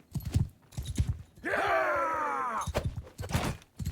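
A horse's hooves clip-clop in Mount & Blade II: Bannerlord, a steady run of low thumps with a drawn-out, falling cry rising over them in the middle, all fairly close and clear.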